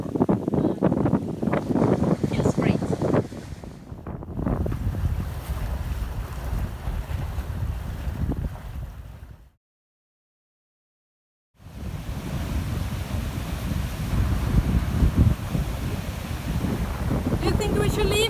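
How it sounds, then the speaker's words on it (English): Strong wind of about 25 knots buffeting the microphone aboard a sailboat moving inside an atoll in the Marshall Islands, loud rumbling gusts with water noise, broken by a brief silent gap, with people talking at times. "we have quite good wind today, like 25 knots"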